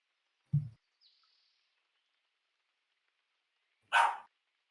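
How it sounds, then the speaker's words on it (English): A single dog bark rings out close by, followed after a long silence by a second sharper bark or yelp; short isolated sounds in a quiet room. "God dang dog."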